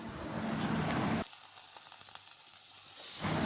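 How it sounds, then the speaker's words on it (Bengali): Onions sizzle in a hot pan for a chicken and potato curry, a steady close frying hiss that softens briefly mid-way and then surges back. "পেঁয়াজটা ভাজতে ভাজতে যাতে ব্রাউন কালার হয়ে যায়"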